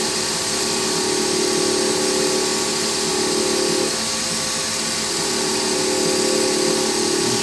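A wood lathe spins steadily while a piece is polished with 12,000 grit micro mesh pads, a loud constant motor hum and whir with a faint rubbing texture, steady for the whole stretch with no talk.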